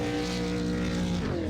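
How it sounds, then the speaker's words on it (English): Super Late Model race car doing a burnout at Bristol in the iRacing sim, a loud sustained engine roar with steady harmonic whine and tire noise, shifting pitch near the end. "those burnouts are always cool"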